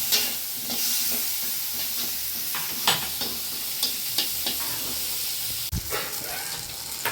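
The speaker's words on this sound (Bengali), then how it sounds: "বেশি ভাজবো না বন্ধুরা, এই হালকা করে ভেজে নেব।" Bitter gourd stems fry lightly in a pan with a continuous sizzle, broken by repeated scraping and knocking stirs of a spatula that stand out as sharp strokes throughout.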